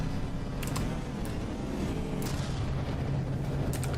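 Sustained heavy artillery barrage in the naval combat game From the Depths, a dense, continuous low rumble of booming fire with a few sharper blasts layered over it, loud and steady throughout with no voices.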